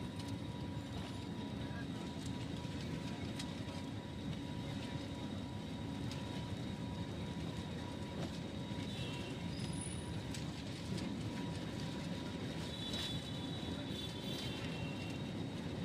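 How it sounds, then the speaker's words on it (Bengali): A passenger jet on a night flight from Kolkata to Bengaluru accelerates down the runway before takeoff, giving a steady, loud, broadband engine roar with a faint whine from inside the cabin, and a voice talks quietly over it. "এবার আস্তে আস্তে স্পিড বাড়ছে একটু বাদেই কিন্তু টেক অফ করবে"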